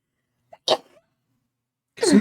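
A person lets out a single sneeze, a short sharp burst after a tiny intake of breath, followed by a moment of silence and then a brief spoken response.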